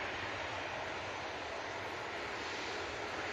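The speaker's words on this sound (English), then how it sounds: "Very nice departure there from the Easyjet." An easyJet airliner departing Manchester Airport, a steady broadband jet engine roar holding loud and even throughout, with no voices over it.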